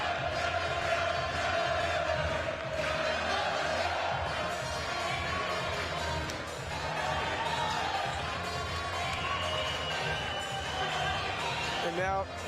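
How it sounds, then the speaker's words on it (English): A boxing crowd at York Hall cheers loudly and continuously in a dense, roaring wash of noise, with a commentator talking over it throughout. "Listen to the crowd, they absolutely loved it."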